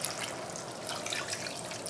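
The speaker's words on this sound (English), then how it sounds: "I'm going to add more water here because you see, it's a little boiled down." Water pours and splashes steadily into a pot of simmering kimchi pork ribs, a soft continuous trickle that stays fairly quiet with no talking.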